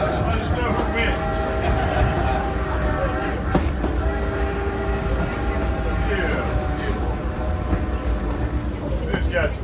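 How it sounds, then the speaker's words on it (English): A steam train rolls along the Strasburg railroad, a steady loud rumble and clatter of cars with a faint whistle tone, while people talk close by throughout. "As we enjoy the steam railroad here on the Railroad Paradise"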